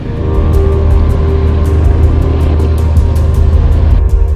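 Off-road motorcycle rolling slowly along a rain-soaked trail during an adventure riding event, a steady loud engine drone with low rumble throughout and faint rhythmic ticking, the bike close by and no voices.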